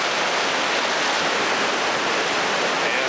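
Whitewater rapids on the Upper Yatt river, a dense, roaring rush of churning water that stays loud and steady throughout with no voices.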